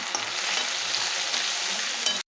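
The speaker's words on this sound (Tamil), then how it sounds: "அதையும் போட்டு நல்லா வதக்கிடுங்க" Medium tomatoes sautéing in hot oil in a home kitchen pan: a close, steady sizzle with soft stirring scrapes and a few light clicks, stopping abruptly at the end, with no speech.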